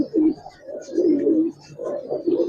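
Giribaz pigeons coo nearby in soft, throaty, rolling phrases, three or four warbling bursts separated by brief pauses.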